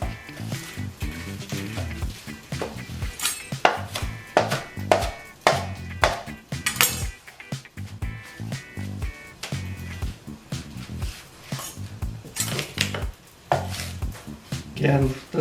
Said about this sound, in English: Again, this is just a rough chop.